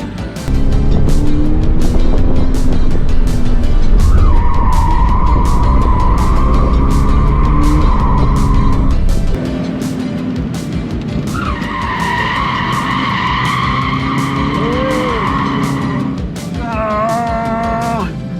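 A car drifts around a corner, tires squealing in long sustained screeches over a loud engine roar, with several separate skids and a wind-buffeted, close-up sound throughout.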